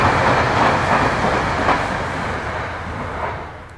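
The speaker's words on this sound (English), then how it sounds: "we see train 8744 with a consist of Metro North M7s, heading to Grand Central Terminal" A Metro North M7 passenger train rolling through Poughkeepsie Station in New York, loud and close with steady rushing wheel noise and rail clatter that fades slightly as it passes.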